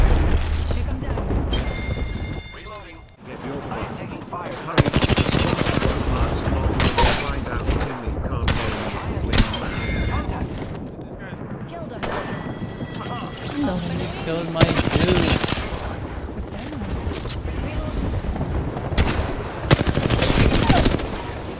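Video game gunfire rattles in dense, repeated automatic bursts with heavy booms and explosions, loud and close throughout, while voices talk over the fighting.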